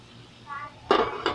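A metal cooking pot lid is lifted off a simmering pot of eggplant and coconut vegetable stew, giving a sharp clattering clank followed by a second lighter clink, close and loud.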